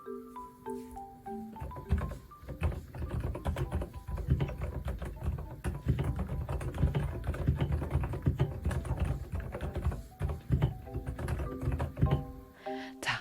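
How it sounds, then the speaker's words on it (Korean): Steady clicky typing on a quiet mechanical keyboard, close and fairly brisk, with a continuous stream of key presses over a faint background tone at the start and end. "굉장히 조용하면서도 도각도각하는 이 키감이 좋아서 잘 사용을 하고 있어요. 잠깐 키보드 소리를 좀 들려드리자면"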